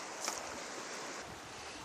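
Floodwater rushes through a swollen creek in a constant broad hiss and churn, with a brief gusty swell near the start and no one speaking.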